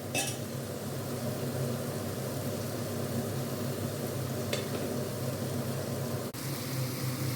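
Eggs and potatoes sizzle steadily in fried spice masala for an egg and onion curry, a constant dense frying hiss with a couple of faint utensil clinks near the start and middle, no voices.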